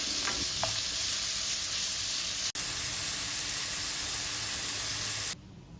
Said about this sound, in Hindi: अब हम इसमें 1 पाव बोनलेस चिकन डालेंगे। इसे अच्छे से मिक्स करेंगे।